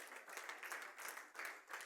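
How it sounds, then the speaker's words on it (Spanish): A church congregation applauds during a Sunday service, producing soft, distant, continuous clapping with gentle swells, faint and fairly far off. "denle un aplauso fuerte al Señor."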